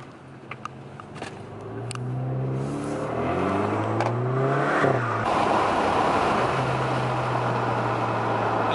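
An Alfa Romeo with a straight-piped exhaust revs up through several rising pulls, then settles into a rough, crackling roar, with some sharp clicks early on and no voices over it.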